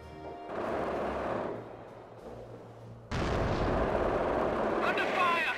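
Artillery fire in the World War II strategy game Company of Heroes on a snow map, with heavy booming blasts and a sustained roaring barrage that grows louder midway, crackling with debris.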